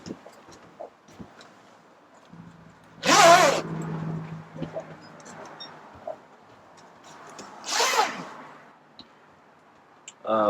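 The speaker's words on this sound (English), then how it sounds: "we need to zip halfway up on these zippers, these 4 corner zippers" Two quick pulls on the corner tent zippers of a Starcraft Spacestar pop-up camper, a few seconds apart, with soft handling clicks and rustling around them.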